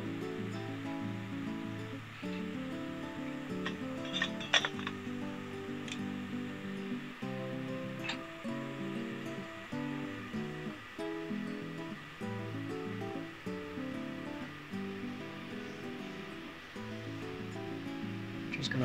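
A full camping kettle of water comes to the boil on a Geepas 2000 W electric hob, giving a steady, close rumbling hiss with faint ticks throughout and no voices.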